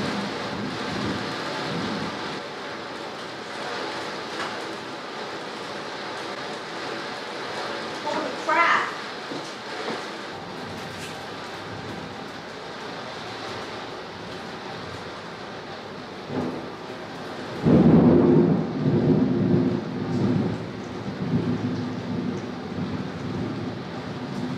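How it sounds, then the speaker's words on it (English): Heavy monsoon-like rain and thunder pour down outside during a summer storm, a steady broadband wash with louder bursts and rumbles midway and near the end, while people talk nervously indoors over it. "it's like monsooning outside"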